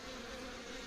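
Bees fly around the hives at the Santeny apiary, making a steady, soft buzzing drone that holds even for the whole moment, with no voices.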